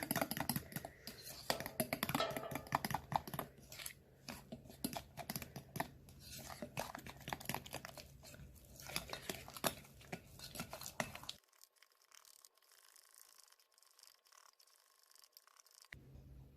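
All-purpose flour whisked into milk for Dutch Baby pancake batter, rapid close clicking and tapping of a whisk against a bowl for several seconds, thinning out and then dropping almost to silence near the end.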